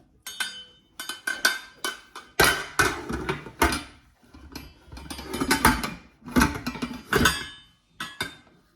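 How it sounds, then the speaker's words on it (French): A metal pressure cooker lid is fitted and closed over a dish of sardines with oil, salt and pepper, giving repeated loud metallic clanks, scrapes and clinks in irregular bursts with short pauses between. "Nous allons recouvrir la cocotte."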